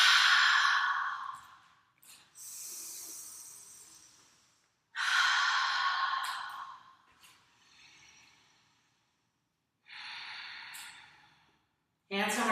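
During a yoga session, a person exhales through the mouth in long, breathy sighs, three or four audible breaths out with quiet gaps between them, close and clear.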